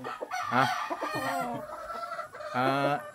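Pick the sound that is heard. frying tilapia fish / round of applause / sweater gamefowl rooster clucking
sweater gamefowl rooster clucking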